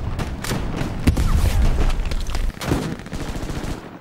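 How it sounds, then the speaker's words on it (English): Rapid bursts of gunfire in a World War II Stalingrad video game, shots and thuds layered densely throughout, some close and sharp, others further off, with no talk over them. "More guys shooting at me."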